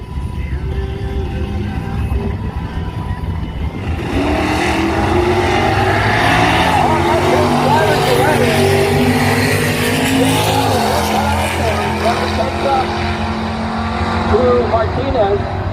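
Two drag race cars, one with a 350 engine and one with a 455 under a fiberglass hood, roar off the line, loud sustained engine noise rising after a quieter start, with an announcer talking over it.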